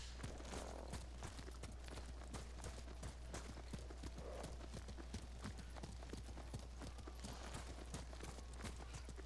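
Horse hooves clip-clop at a quick, steady gallop in the video game Ghost of Tsushima, a dense run of close hoofbeats over a low constant hum.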